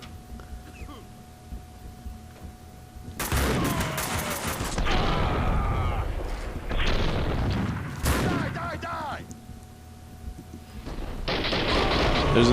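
Assault rifle and pistol fire in the Max Payne 2 video game, several loud bursts of rapid automatic gunfire separated by quieter stretches of game ambience.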